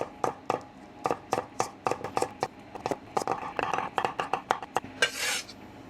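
Garlic chopped finely with a knife on a board: a quick series of sharp, close taps in an uneven rhythm, ending with a brief scraping sweep.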